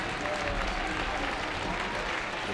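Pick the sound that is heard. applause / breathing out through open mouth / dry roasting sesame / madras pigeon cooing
applause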